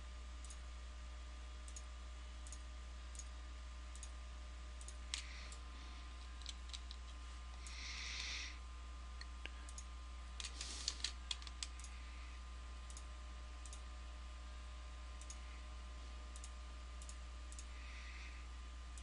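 Mouse clicks and keyboard taps while working in the UDK level editor: scattered, crisp, close clicks spread across the stretch, with a few quick bursts, alone over a steady low hum.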